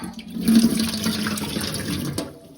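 Cleaning water is poured out in a single rushing splash that peaks early and tapers off over a couple of seconds, close and loud with no talking.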